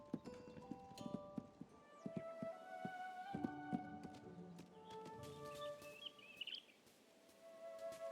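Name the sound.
birds chirping in video game Tales of the Shire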